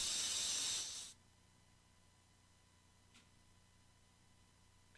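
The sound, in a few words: Akmodan II boss disintegrating in the wind, video game Castlevania: Symphony of the Night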